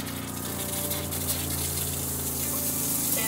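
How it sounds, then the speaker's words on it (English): Hot water gushing from an opened valve in an ambulance camper conversion's plumbing system, a steady rushing flow with a constant low hum beneath it, close and continuous without pauses. "It's hot water, man."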